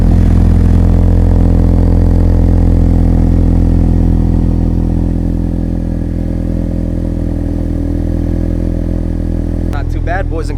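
A 4-cylinder car engine cold-started on a morning in Atlanta traffic, running loud and close with a steady, throbbing idle throughout.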